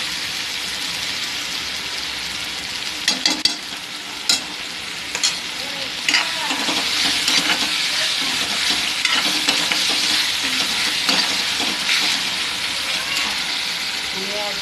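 Turmeric and salt are stirred into a frying mixture in a pan for potta kaleji, giving a loud, continuous sizzle with scraping and clinking strokes throughout.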